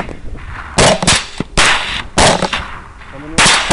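Rifle shots ring out during a night hog hunt, several loud sharp cracks spaced about a second apart, each with a short ringing tail, close and dominant over faint background noise.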